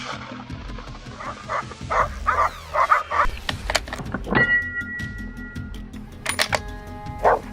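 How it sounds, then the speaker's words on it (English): Hunting dogs bark during a wild boar hunt outdoors, a quick run of sharp barks at mid-distance followed by scattered clanks and thuds. "Amid echoing dog barks, precise shots find their targets."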